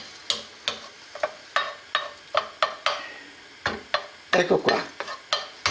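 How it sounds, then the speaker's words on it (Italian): Peppercorns toast in a hot, dry pan for Neapolitan vermicelli, heard as a run of sharp, close clicks and rattles as they are stirred, irregular and loud, with a brief spoken phrase. "stiamo tostando il pepe"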